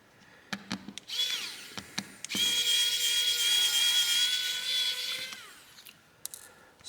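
Small powered screwdriver backing out the last screw from a FoxxD Miro S67 5G phone, a few light clicks then a steady high whine for about three seconds, close and alone.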